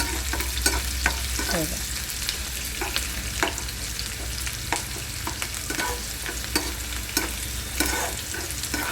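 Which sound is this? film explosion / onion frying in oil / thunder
onion frying in oil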